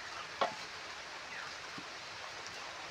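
Meat curry with oil is stirred in a pot for a home-cooked biryani, a faint, soft scraping and sizzling with one sharp clack of the utensil early on, otherwise low and steady.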